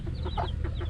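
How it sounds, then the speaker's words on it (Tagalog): Chickens cluck and chatter in quick overlapping calls close by, a short busy burst of fowl sounds. "Mga manok."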